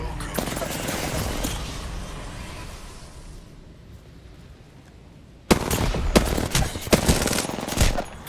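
Gunfire in the battle royale game Apex Legends: dense, loud bursts of automatic fire, a quieter lull, then sharp, rapid shots returning close by, with faint voices mixed in.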